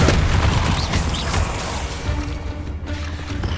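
Confringo blast spell explosion in Hogwarts Legacy, a loud rumbling burst that spreads into dense crackling debris and a sustained roar for several seconds.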